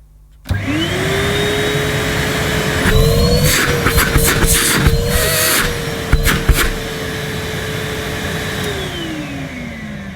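A Numatic vacuum cleaner named Lewis switches on with a sudden start, its motor whine climbing in pitch and then holding at a steady, loud drone, with a few brief bumps and clicks partway through.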